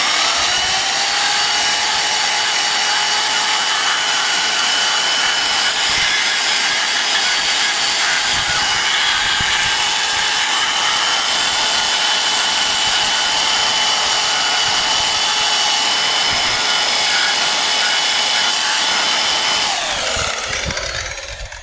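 A power sander with coarse-grit sandpaper works a surface during sanding and priming, giving a loud, steady abrasive whine with a constant motor hum for about twenty seconds before winding down at the end.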